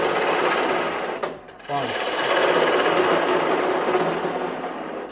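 A wood lathe turns a spinning top held in large jaws, giving a steady, loud, close whir and cutting hiss with a brief dip partway through; someone speaks briefly over it.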